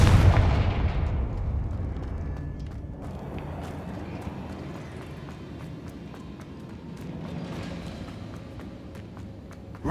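A Confringo blasting spell fires in the Hogwarts Legacy video game, giving booming, explosive impacts. A heavy burst opens the clip, and a rumbling, clattering din of action follows.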